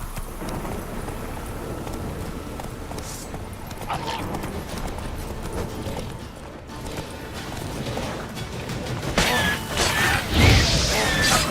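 Roach the horse in The Witcher 3, hooves clip-clopping steadily at a trot or gallop, with creaking gear and faint ambience, then a louder rush and clatter near the end.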